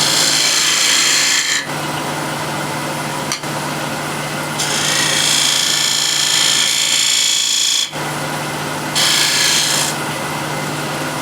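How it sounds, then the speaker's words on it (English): Wood offcuts spin on a lathe as a 10mm spindle gouge cuts into them, giving a steady motor hum under bursts of harsh hissing, scraping shavings that start and stop several times, close-up with no talking. "Now I can remark this using 10mm spindle gouge"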